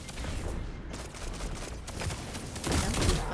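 Rapid hand cannon gunfire in the video game Destiny 2, a dense burst of sharp shots that stays loud and fairly constant with no talking.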